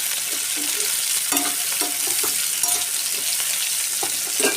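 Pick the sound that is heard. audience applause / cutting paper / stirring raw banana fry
stirring raw banana fry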